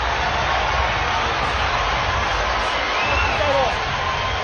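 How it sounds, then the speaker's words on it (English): Boxing arena crowd roaring for a fighter after a knockdown in a championship bout, a loud sustained wall of cheering and whoops with faint voices mixed in throughout. "the crowd is wildly excited for Pacquiao as he gets a lucky break"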